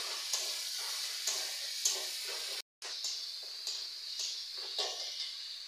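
A ground paste of cumin and two dried chilies sizzles steadily in a pan for ghugni, a close, even hiss with soft rhythmic stirring scrapes and one brief dropout to silence.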